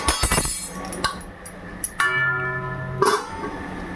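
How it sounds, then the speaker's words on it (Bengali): A metal lid is set onto a pot of simmering rui fish curry with cauliflower, producing several bright clinks and ringing metallic tones, loud and close, with one lingering ring near the end. "এবার আমি একটা ঢাকনা দিয়ে বন্ধ করে রাখবো"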